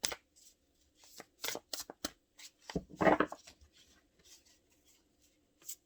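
Tarot cards shuffled by hand during a Leo love reading, a series of quick crisp riffles and soft slaps, close and intermittent, with a longer rustling flutter in the middle.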